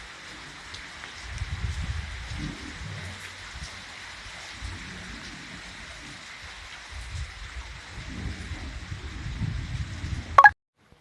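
Steady rain patters over low rumbling swells of a thunderstorm that come and go, ending with a brief sharp knock before quiet.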